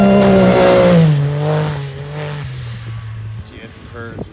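A Can-Am Maverick X3 side-by-side roars in a loud, steady engine tone that drops in pitch as it passes, with a burst of nitrous purge in the snow, followed by quieter rumbling and clatter.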